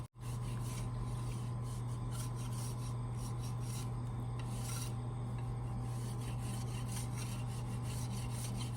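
A bamboo wing spar for a Thai Chula kite being scraped and shaved with a blade, a steady close rasping that repeats in quick strokes alongside a constant low hum.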